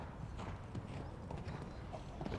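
Horse hooves clip-clopping in steady rhythm during a show jumping round at an eventing competition in Jardy, fairly close and moderately loud over continuous arena ambience, with no talk.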